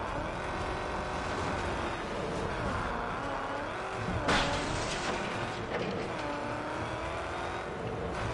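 A car engine drones and revs steadily while driving in the Mad Max video game, with shifting pitch and a brief louder burst midway, no talk over it.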